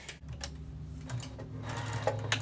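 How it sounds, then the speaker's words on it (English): Close, rhythmic stitching from a sewing machine running down a quilt seam, a quick mechanical clatter with a steady hum underneath. "you're just gonna sew down the line there"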